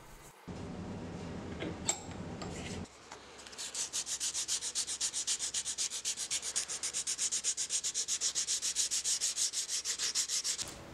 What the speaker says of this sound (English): it's time to sand the handle down and prep it for its finish coat.